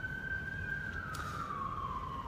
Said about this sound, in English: As you can see, police cars just keep on going.